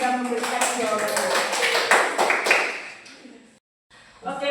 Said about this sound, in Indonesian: beri aplaus kepada teman kita yang sudah memberikan jawabannya